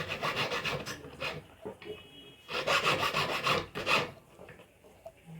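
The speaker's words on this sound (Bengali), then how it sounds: "এরপরে এখানে যে আমি ঘষে দিচ্ছি একটু গোলাই করে দিচ্ছি" Pink gold jewelry is rubbed and rounded by hand with a file, giving rasping strokes in irregular bursts, close up and fairly loud, with short pauses between passes.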